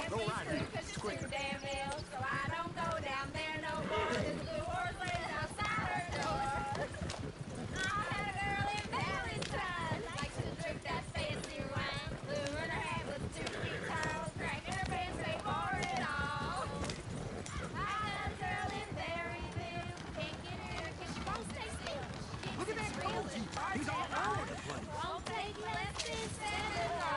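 Horses clip-clopping and galloping across ground in the Red Dead Redemption 2 video game, a steady run of hoofbeats heard beneath ongoing voices and talk, with an occasional whinny.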